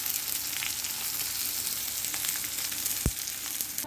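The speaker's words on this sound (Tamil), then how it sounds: "2 பச்சை மிளகாய் அதுவும் சேர்த்து நல்லா பொன்னிறமாக வதக்கிக்கலாம்" Onions and green chillies fry in a pan, a steady close sizzle with soft stirring scrapes and one sharp knock near the end.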